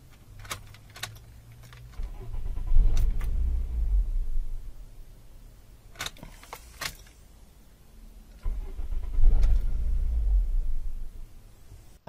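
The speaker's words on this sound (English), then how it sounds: "the engine starts for a very brief period of time and then it cuts out" A car with a fault that makes the engine start then cut out immediately: twice the engine catches with a short rumbling burst of a second or two, then dies, with key jangles and clicks around each attempt.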